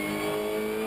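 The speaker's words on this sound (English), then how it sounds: "Luca is making that VW as wide as he might, braking very late indeed" A Volkswagen touring race car on the Shanghai circuit, steady close engine drone with a faint rising rev, no voices over it.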